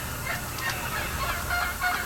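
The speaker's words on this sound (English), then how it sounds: "Just look at these magnificent birds. Merriams are my favorite." Merriam's wild turkeys call during a hunt in Nebraska, a few honking, gobbling-type calls at a moderate distance over outdoor background noise, with no talking.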